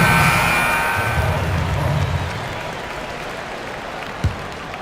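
Crowd applause and cheering fill an arena during an NBA 2K18 basketball game between the Milwaukee Bucks and Denver Nuggets, loud at first and then slowly fading over a few seconds.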